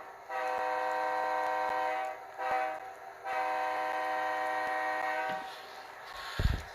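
Model train horn on a CSX layout blowing the crossing signal: two long blasts, a short one, then another long, loud and close, with a low thump near the end.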